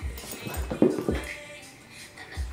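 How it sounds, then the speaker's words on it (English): Playing dogs give soft whimpers and short yips up close, with a brief sharper cry in the middle and some rustling movement between the sounds. "what are those crazy dogs doing?"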